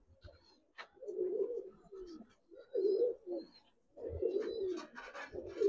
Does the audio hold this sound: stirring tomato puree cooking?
no